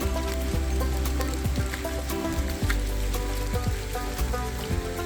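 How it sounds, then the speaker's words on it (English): Heavy rain pours steadily while a truck sits stuck outdoors, a dense, continuous patter over a low rumble that stays loud and even throughout, with no talking. "In the pouring rain,"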